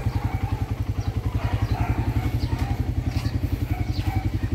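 A carbureted Suzuki Raider 150 motorcycle engine idling close by, its rapid, even thumping pulse steady throughout with a faint mechanical clatter on top.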